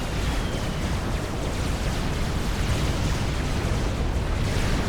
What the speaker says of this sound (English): The torpedo bombers come for another pass.